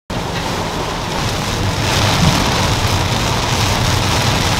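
Heavy rain falls steadily outdoors, a dense, loud, continuous patter that swells slightly partway through, with no talking.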